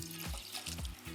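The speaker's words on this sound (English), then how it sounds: "I have a pot here and I will add my water" Water pours into a pot for making syrup for Greek Christmas honey cookies, a soft gurgling trickle with rhythmic bubbling pulses, close and fairly quiet.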